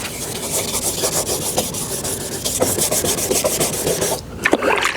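A foggy car headlight is sanded by hand with 400 to 500 grit sandpaper, giving close, loud rasping strokes in a quick back-and-forth rhythm with a brief pause near the end.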